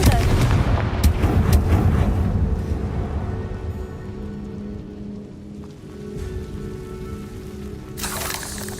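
A Confringo fire spell explosion in the Hogwarts Legacy video game bursts out loud and close, booming at the start, then a rumbling tail fades into rain-like crackle with a sharp flare near the end.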